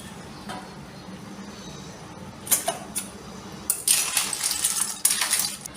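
A metal lid lifted off a cooking pot of clams simmering in a Malvani-style curry, with sharp clinks and rattles in short bursts, the loudest clattering near the end, over a low steady background hum.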